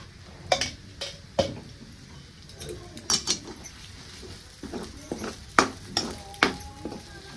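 Grated fresh coconut roasts in ghee in a pan for coconut halwa, with scattered spatula scrapes and light clinks over a faint, steady background hiss. No one speaks.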